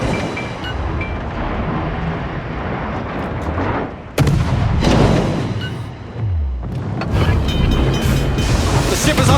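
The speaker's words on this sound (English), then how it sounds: "Concentrate fire on the target." Warship main guns fire in the World of Warships naval battle game: a loud sudden artillery blast and rolling boom, then another heavy roar, over constant ocean wash and engine rumble.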